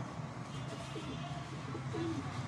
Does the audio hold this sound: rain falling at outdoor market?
no